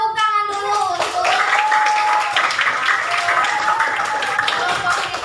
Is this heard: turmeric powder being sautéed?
no